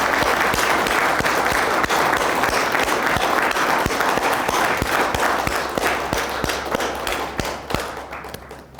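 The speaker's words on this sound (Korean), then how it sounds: "박수 한번 해주십시오" A company New Year opening ceremony and CEO inauguration audience claps steadily, with sharp individual claps and thumps standing out over the crowd before it tapers off at the end.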